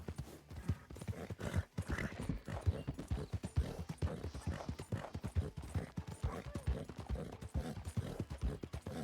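Horse hooves clip-clop in steady, close rhythm throughout, a continuous run of hoofbeats from a mount ridden in the Red Dead Redemption 2 video game.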